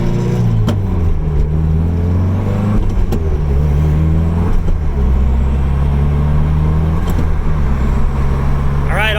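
A Mazda Miata with a swapped transmission drives along, its engine a steady low drone heard from inside the car with gear changes and occasional thumps, while a voice speaks briefly near the end.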